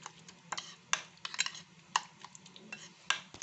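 A spoon stirs a sweet sandwich filling with honey in a bowl, giving a run of light, irregular clinks and taps against a faint low background hum, with no talk.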